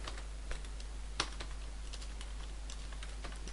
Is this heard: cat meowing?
no